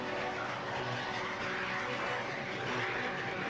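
Classic restored aircraft at Duxford airfield, a historic aviation museum with an operational runway, giving a steady, loud engine roar that fills the whole stretch without a break.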